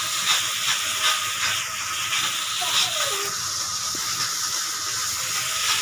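Masala frying in oil for jackfruit kofta curry, a steady bright sizzling hiss running continuously, with a faint scrape partway through.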